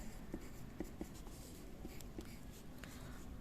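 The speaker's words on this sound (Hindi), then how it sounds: "फिर यहाँ पर आप नीचे की तरफ इंडेक्स बनाएंगे, ऐसे लिखेंगे इंडेक्स" A pen writing on paper while labelling a geography map, with faint, close scratching strokes and small taps in a quiet room.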